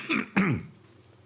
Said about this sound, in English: I told you that cough was loosening up